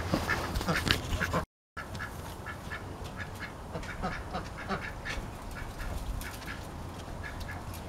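Ducks quack repeatedly near a fence, with a burst of busy calls early on, a brief cut to silence, then a steady run of quacks at moderate distance.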